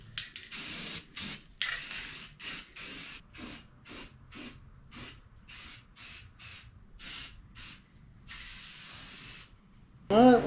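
Repeated short bursts of aerosol primer spray hiss on a first-generation Toyota pickup, close and steady, separated by brief pauses, followed by a sharp clatter at the end.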